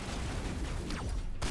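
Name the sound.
shotgun fire in the video game Mass Effect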